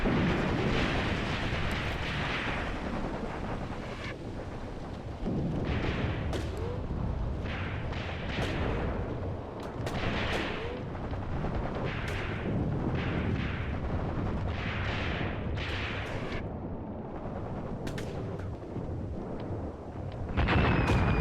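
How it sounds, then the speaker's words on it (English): Artillery strikes and dropped bombs in Graviteam Tactics: Mius Front, a continuous barrage of booming blasts and cracking impacts, some close and sharp, others rumbling, overlapping without pause. "they are just dropping bombs on us. Just pure artillery strikes here"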